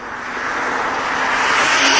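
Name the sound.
Ferrari 612 Scaglietti V12 engine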